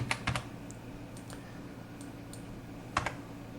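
A computer keyboard is typed on in short bursts. A few clustered keystroke clicks come at the start and end, with sparse single taps between them, all close and quiet with no voice.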